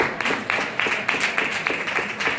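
Scattered clapping from a small crowd, a series of sharp hand claps with brief gaps, moderately loud and steady.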